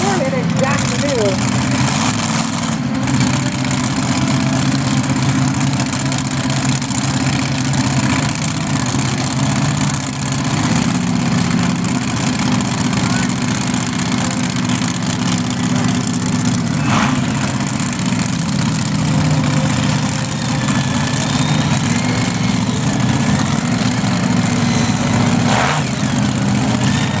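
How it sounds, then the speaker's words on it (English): A mud bog truck's engine idles loudly at the start line of a mudbog race, a steady low rumble running the whole time with crowd noise and an announcer's voice over it. "These trucks are very, very loud, folks."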